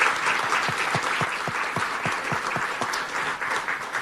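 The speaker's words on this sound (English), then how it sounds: "Let's give a big round of applause" Audience applause at a political luncheon with Republican legislative leaders, a dense sustained clapping from a roomful of people, steady and fairly loud throughout.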